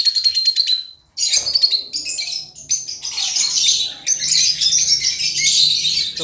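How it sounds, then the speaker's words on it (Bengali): Caged lovebirds, rosy-faced and lutino pairs, chatter in bursts of shrill, high chirps and squawks, close by, with brief pauses between flurries and a faint low hum underneath. "এখানে একটা রোজি গ্রুপের পাখি আছে, নর্মাল রোজি"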